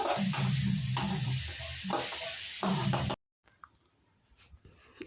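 Browned momo filling is stirred in a hot pan, sizzling with rhythmic scraping strokes for about three seconds before cutting off abruptly to near silence.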